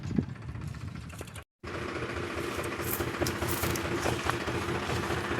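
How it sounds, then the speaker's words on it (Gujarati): A farm tractor's engine chugs steadily on a rough village track. The low rhythmic thrum stays at moderate distance, broken by a brief dropout, and then grows slightly fuller. "જો આપણા વાળો ટ્રેક્ટર આવે છે અત્યારે"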